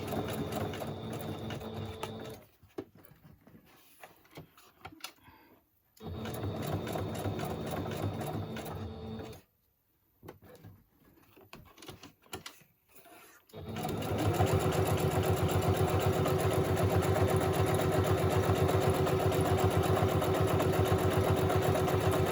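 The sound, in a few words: sewing machine stitching Easter tags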